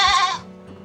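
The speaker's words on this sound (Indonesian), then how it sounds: "jadi ini peranakan kambing etawa Mas" An Etawa crossbreed goat at a village farm gives one short, loud, nasal bleat up close. A faint low murmur follows it.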